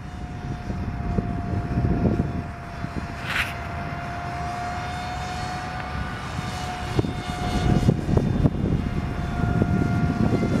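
A model airplane engine drones steadily outdoors, a loud, continuous buzz that swells as the throttle is opened toward the end.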